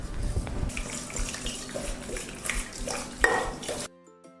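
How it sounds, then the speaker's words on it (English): Urad dal, chana dal and fenugreek seeds are rinsed under a running tap, with water splashing in a bowl and light clinks of grains and dishware, ending abruptly. "Wash this 2 to 3 times and keep it aside for 2 to 3 hours."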